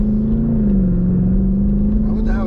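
A Jeep Grand Cherokee SRT engine revs hard up close, a loud, steady droning roar that holds its pitch with a slight dip before rising at the end.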